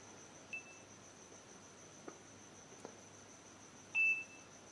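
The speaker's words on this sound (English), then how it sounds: "That is the beeping sound," A camera being set up emits two short, thin electronic beeps a few seconds apart, faint and high against a quiet room hiss, with a couple of tiny clicks between them.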